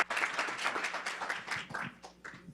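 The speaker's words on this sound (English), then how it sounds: "big round of applause for Fard." An audience at a health tech talk gives brief applause, scattered claps that are faint and fade quickly.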